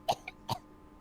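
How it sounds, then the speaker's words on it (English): Two short, quiet coughs close by, a brief pause between them, with no talking. "Maybe don't cough though."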